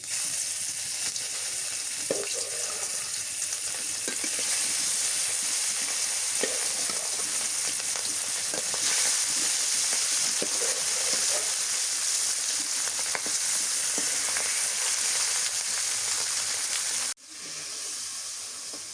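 Fish frying in a pan, a steady loud sizzle and hiss that holds for most of the stretch and then drops off sharply near the end, with no talking.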